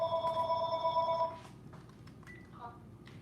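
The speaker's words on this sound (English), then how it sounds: "This phone is going to keep ringing." A telephone rings with a steady electronic trill for about a second and a half, then stops, leaving a quiet room with faint sounds.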